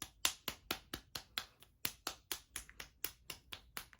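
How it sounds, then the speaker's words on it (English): A right hand clapping the back of the left hand, a steady series of sharp, close slaps at roughly four per second, alone and fairly soft. "We'll begin right hand clapping the left hand."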